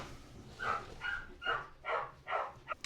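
A dog barks excitedly in a home when someone arrives, giving about six quick, separate yelps and barks in an uneven rhythm, fairly near but not very loud, with no talk over it.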